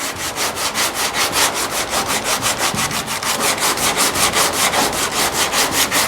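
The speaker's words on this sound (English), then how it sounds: "We'll get it sanded. All right, we got some 40 grit." Coarse 40-grit sandpaper works over body filler on a GTO restomod sail panel, a loud rhythmic back-and-forth rasping in fast, even strokes, close up and continuous with no talking.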